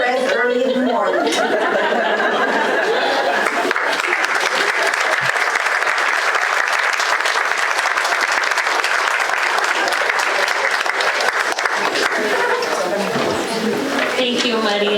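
A live audience applauds a storyteller named Maria at a community storytelling event, steady sustained clapping filling the room for the whole stretch, with light chatter and a few chuckles mixed in.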